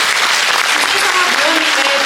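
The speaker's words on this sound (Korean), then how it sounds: "다시 한번 큰 박수 부탁드립니다" Audience applause fills a panel discussion on reform of residential facilities for people with disabilities, a steady dense clapping from a large crowd that holds at a loud level throughout, with no talk over it.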